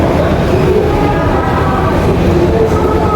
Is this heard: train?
yes